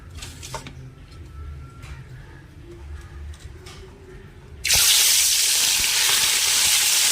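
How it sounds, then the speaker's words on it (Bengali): Fish slides into hot oil in a pan and sets off a sudden loud, steady sizzle that fills the second half, after a quieter stretch of low kitchen background noise. "মাছের ঝাল করতে পারবো না, মাছ ভেজে দেবো"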